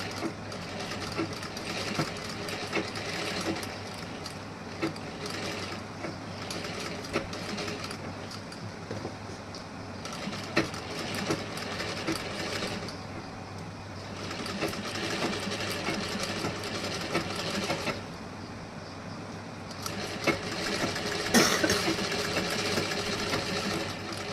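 A sewing machine stitches the front part of a blouse, a continuous close mechanical whir with rapid needle chatter that pauses briefly a few times and resumes, no voices over it.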